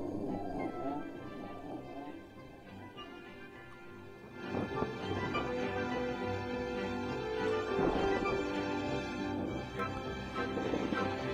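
Background music in the fantasy video game Wytchsun: Ellos Origins, a quiet looping tune with soft tonal layers and occasional clopping percussive hits, steady and low in level with no voices over it.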